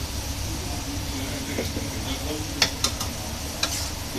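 Shrimp fry with turmeric and chili powder in oil, a continuous close sizzle broken by a few sharp clicks and taps from stirring utensils near the end.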